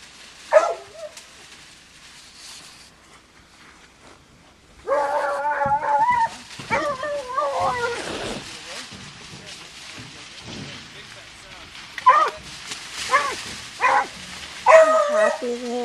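Dogs out in the brush bark and howl in scattered bursts, some yips and rising wavering howls at moderate distance, with people talking in between.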